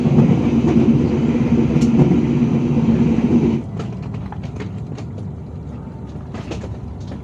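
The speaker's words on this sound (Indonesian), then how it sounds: "KA Singasari sudah sampai di stasiun Kutoarjo, Kabupaten Purworejo jam 4:05 menit" The KA Singasari passenger train arrives at Kutoarjo station, heard as a loud steady rumble with a low hum that drops off partway through. Lighter rolling noise and scattered clicks follow.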